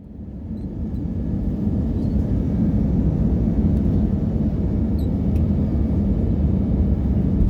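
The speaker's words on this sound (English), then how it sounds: "eventually we landed at the Dublin airport." A Lufthansa airliner touching down at Dublin airport, heard from inside the cabin as a steady, loud low roar of engines and rumbling that builds slightly and holds, with no voices.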